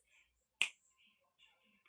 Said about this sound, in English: Okay, 2 snaps and a clap.